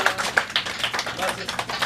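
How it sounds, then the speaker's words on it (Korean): A congregation claps together during a church worship service, a dense, steady patter of many hands lasting under two seconds with no pauses. "우리 하나님께 영광의 박수 드립시다"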